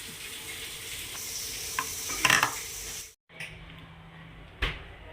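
A milk, coconut and paneer mixture for a festival sweet simmers and sizzles in a pan as a spoon stirs it, with occasional clinks against the pan and a short pause near the end.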